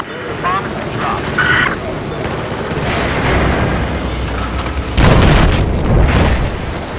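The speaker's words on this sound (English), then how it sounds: "Bomb has been dropped." Bomb explosions in the video game Battlefield 4 land as heavy booming blasts amid game battle noise, with a big nearby burst midway through, and players talk over the action.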